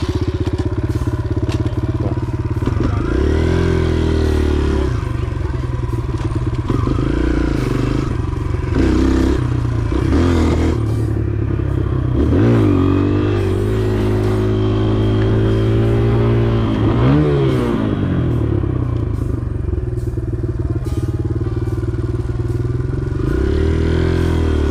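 A motorcycle engine revs loud and close while the bike is ridden through wheelies, its pitch climbing and falling in repeated throttle swells over rumbling exhaust and road noise.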